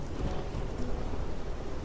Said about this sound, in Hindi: माँ, बाहर कितनी बारिश हो रही है।